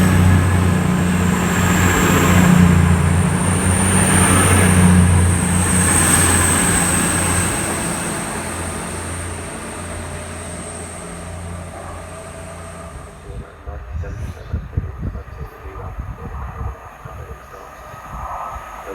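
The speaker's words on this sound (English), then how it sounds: "This is a classic TTT Meridian leaving Market Harborough train station." Meridian passenger train pulling out of Market Harborough railway station, a loud, sustained rumble with a high whine that fades as it departs, leaving quieter crackly outdoor noise at the end.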